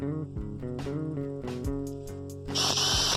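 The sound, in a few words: power drill drilling through PVC and steel fence post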